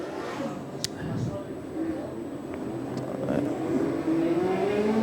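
Legend race cars rolling off at the start of a race at a state title meeting, heard as a distant engine drone with rising revs, several cars pulling away under a commentator's voice.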